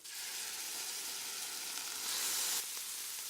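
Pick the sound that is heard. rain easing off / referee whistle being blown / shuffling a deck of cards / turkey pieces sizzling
turkey pieces sizzling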